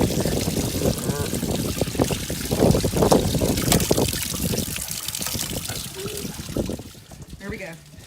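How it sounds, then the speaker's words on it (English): A high pressure hose sprays water over cleaned blue crabs beside a river, a steady hissing, splashing rush that fills most of the clip and eases off near the end, with someone talking over it. "The next step is to wash them out with a high pressure hose."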